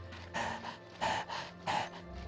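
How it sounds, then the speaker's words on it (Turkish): A character in The Long Dark catching breath after sprinting, three heavy, breathy gasps spaced about two-thirds of a second apart over a low steady background hum, close and moderately quiet. "Yine bak nefes nefese yaptım. Shift'e basarak koşunca böyle oluyor."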